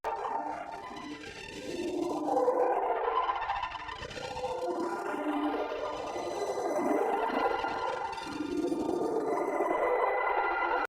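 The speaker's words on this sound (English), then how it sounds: "The output is passing through this multitap delay in these frequency shifter stages like the ARP3 signal." Synthesized output of a Pure Data IDM patch fed through multitap delay and frequency shifter stages: dense tones with repeating pitch sweeps gliding steadily upward, layered echoes throughout.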